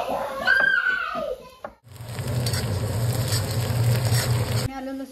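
Garlic fries in an iron kadhai for chole. A short stretch of talk comes first, then a steady close sizzle runs for about three seconds before cutting off.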